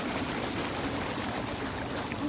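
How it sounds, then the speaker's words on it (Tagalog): Water gushing from a resort pool fountain at a plantation bay, a steady dense rushing splash with no break, fairly close. "Tubig nila na bulwak-bulwak."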